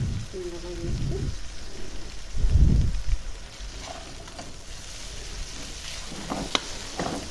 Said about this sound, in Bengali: এখন এই ডিমের সাথে ভালো করে ভেজে নেব।